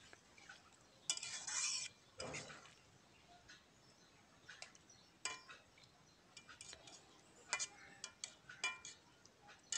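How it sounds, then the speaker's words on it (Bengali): A spoon scrapes and clinks in a pan as coriander leaves are stirred into Bata fish curry with potato and beans, in soft, sporadic strokes and taps separated by quiet pauses. "সুন্দর করে মিশিয়ে দিতে হবে ধনিয়ার পাতাটা।"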